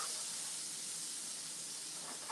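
Sweet peppers and onions sautéing in a pan give a steady, soft, close hiss that holds even throughout, with no talk.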